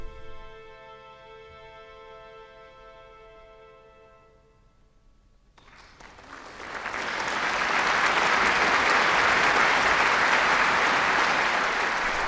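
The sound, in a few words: polite applause at classical concert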